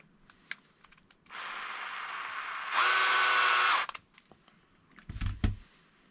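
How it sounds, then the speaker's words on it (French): A cordless drill runs in two bursts while truggy differentials are assembled, a steady whir followed by a higher, louder whine. Light clicks and handling knocks come before and after, with a brief thump at the end. "Je suis réglé comment sur ma perceuse."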